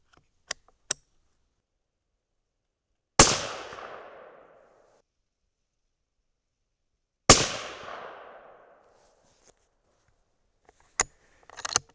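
A suppressed Thompson Center Compass rifle in 6.5 Creedmoor fires two sharp shots several seconds apart, each followed by a rolling outdoor echo that fades away, with a few small clicks and handling sounds between them.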